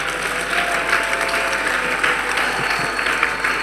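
A large church conference crowd claps steadily and loudly for a few seconds, a dense, even wash of applause with no pauses.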